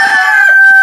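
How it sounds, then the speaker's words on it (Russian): A single loud rooster crow rings out up close, a sustained strained call that holds steady for under a second. "Эти утром как начинают кукарекать"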